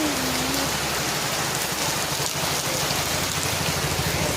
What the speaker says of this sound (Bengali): এরকম বাইরে পানি হচ্ছে, আকাশের ওয়েদার খারাপ, খুব ভীষণ জোরে পানি হচ্ছে।